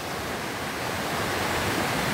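A river rushes past in a steady, dense wash of flowing water, close and continuous with no pauses and no voices.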